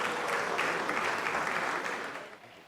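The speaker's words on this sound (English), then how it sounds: "Please, let's give a round of applause to our GA president." Guests at an alumni association fundraising dinner dance applaud their association president, a full, steady round of clapping that tapers off in the final moments.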